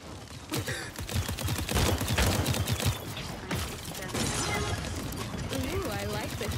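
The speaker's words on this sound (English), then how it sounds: "They're firing at me!" Gunfire in the Paladins video game comes as rapid bursts of shots mixed with mechanical clatter. The firing is loud and close and plays under someone talking.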